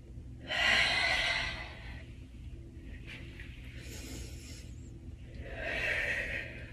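Slow, deep breaths during a gentle standing yoga flow: two or three long, airy inhales and exhales close to the microphone, separated by quiet pauses.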